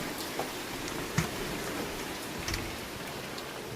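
Steady rain hisses evenly, with a few louder drops or drips standing out briefly.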